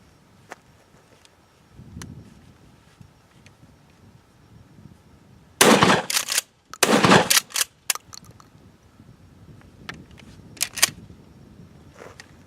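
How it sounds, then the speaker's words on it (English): Shotgun loaded with double-aught buckshot, fitted with a Magpul SGA stock, fires in two loud bursts of sharp reports close by, with smaller clicks and handling noise in a quiet outdoor setting before and after. "and then I'll put some double-aught buck through it"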